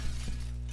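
Glass shatters in the physics game Happy Wheels, a single brief crash of breaking panes over a steady background of game noise.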